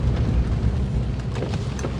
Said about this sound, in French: il pleut comme pas possible